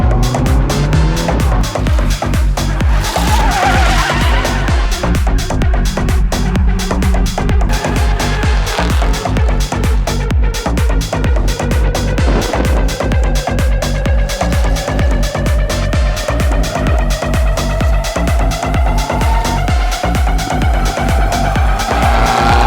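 A Nissan S15 drift car with an SR20DET engine slides sideways while its engine screams at high revs and its tires squeal continuously. The sound is loud and sustained, with no talk.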